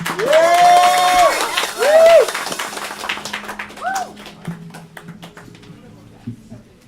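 An audience at a poetry night claps for the next poet, the applause rising under a loud voice at the start and then continuing as scattered, fading claps.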